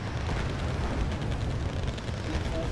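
A napalm strike in the real-time strategy game Wargame: Red Dragon produces a dense, continuous roar of fire and rumbling blast that stays loud and steady throughout.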